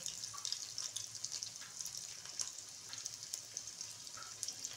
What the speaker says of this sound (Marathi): तेल गरम झालं, त्याच्यात आपण अद्रक लसूणचे तुकडे घालूया